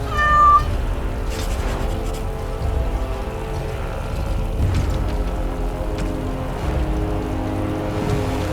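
A cat meows in Dragon Age: Awakening, one clear, loud mew near the start over a steady bed of game music and ambient water-like noise that runs throughout.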